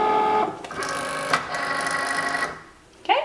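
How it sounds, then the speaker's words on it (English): A Cricut Maker cutting machine loads a cutting mat with vinyl for a decal, making a close motorized whir with rollers feeding and stopping, a brief clunk midway and a short electronic beep tone at the end. "here we are at the Cricut Maker. So we want to load our mat."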